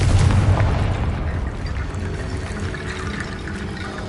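A Confringo blasting spell explodes in Hogwarts Legacy, a loud, rumbling boom with a heavy low-end burst up front that decays into a long, roaring wash of debris-like noise.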